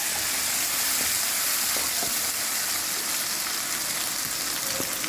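Onions fry in a pan with ginger, garlic and green chili paste for a bhindi masala, giving a steady, even sizzle with a few faint clinks or stirs and no talking.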